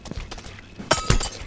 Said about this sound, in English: I smashed the pint on his face, it was awesome